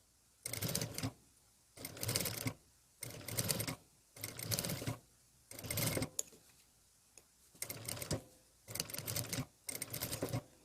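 A domestic sewing machine stitches bias tape onto a quilted vest in eight short bursts separated by quiet pauses, each run a close, steady whirring rattle.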